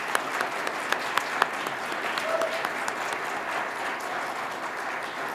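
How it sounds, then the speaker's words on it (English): Audience applause at a Boy Scout Court of Honor for Damon and Ms. Corvello, a steady wash of many hands clapping throughout, moderately distant with a few sharper individual claps standing out and some faint crowd murmur. "Give Damon and Ms. Corvello a round of applause"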